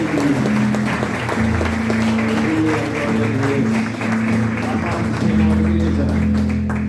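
A church congregation applauds during a special communion service, scattered clapping heard under sustained music with held low tones and a brief vocal, fairly loud and continuous throughout.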